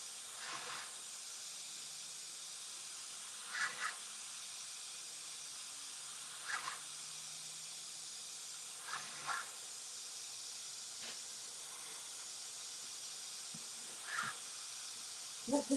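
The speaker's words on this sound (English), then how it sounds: "That's the first I've seen an airbrush in your hand." An airbrush sprays paint during lowrider mini-truck pattern work, giving a steady, faint hiss throughout. Short, slightly louder bursts of spray come every few seconds, with no talk.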